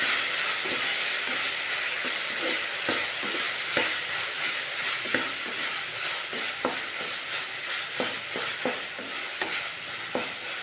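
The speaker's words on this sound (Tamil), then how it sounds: "இப்போ தக்காளி பூண்டு பச்சை மிளகாய் எல்லாம் ஓரளவுக்கு ஃப்ரை ஆகிடுச்சி" Tomato, garlic and green chilli fry in a pan, a steady loud sizzle with frequent sharp stirring clicks and scrapes of a spoon throughout, no voices.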